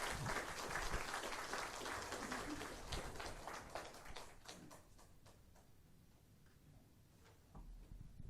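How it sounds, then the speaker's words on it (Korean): Applause from a church congregation at an ordination thanksgiving service, a dense steady clapping that fills the room for several seconds and then thins out toward the end. "크게 박수해 주시면 감사하겠습니다."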